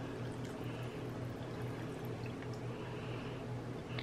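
Water is poured into a saucepan for a candy corn syrup, a steady continuous trickling and splashing that runs the whole time, faint and close with no talk.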